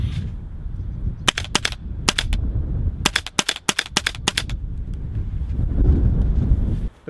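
A VFC HK416A5 gas blowback airsoft rifle fires outdoors in freezing cold while failing to feed BBs, giving sharp cracking shots in quick bursts and single pops over steady wind rumble on the microphone.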